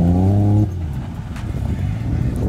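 A drift car revving hard, a loud rising engine note that cuts off abruptly, then rough sputtering engine and tire noise from the car sliding nearby.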